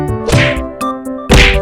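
A cartoon fox slams into a tree: two loud, sharp thwacks about a second apart over a sustained tonal music bed.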